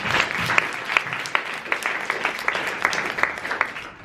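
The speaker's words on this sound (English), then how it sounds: "So guys, give yourselves a round of applause." A team applauds together at a Portsmouth recognition event, with steady clapping from a moderate crowd, sharp individual claps standing out in an even rhythm throughout, with no voices over it.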